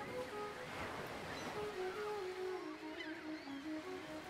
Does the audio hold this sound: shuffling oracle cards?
no